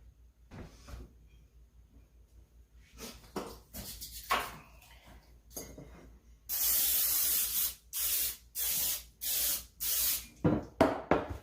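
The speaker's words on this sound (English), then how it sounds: "I'm going to spray them with some cooking spray." Cooking spray hisses into glass bread pans in a run of short, loud, close bursts of even rhythm, after some quiet knocks and clinks as the pans are handled.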